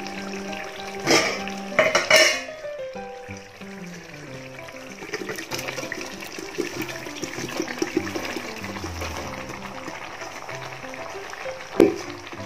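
Boiled tapioca tipped into a pot of meat for Kerala-style tapioca biryani and stirred, with a couple of louder clatters and wet thuds near the start, then steady scraping and mixing through the rest.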